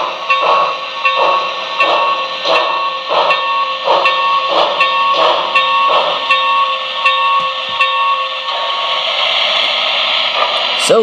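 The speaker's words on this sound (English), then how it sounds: "So that is the sound of this engine." An HO-scale Broadway Limited NYC 20th Century Hudson steam locomotive with Paragon2 sound gives a steady rhythmic chuff with constant hiss, then a long steam whistle blast near the end, all loud and close with no talk.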